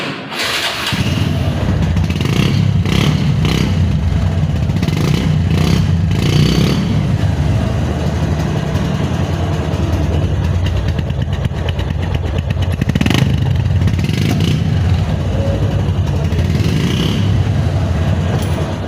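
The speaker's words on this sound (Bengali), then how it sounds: "ডিসকভার 135 বাইকটার সাউন্ডটা খুবই জরুরি, দেখার মতো একটা জিনিস" A Bajaj Discover 135 motorcycle engine, original and never opened, runs steadily and loudly close by, a continuous low throbbing idle with a few brief surges and no talking.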